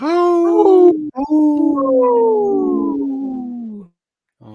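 A man imitates a wolf with loud, close, drawn-out howls, a short one first and then a long falling one, before stopping into silence.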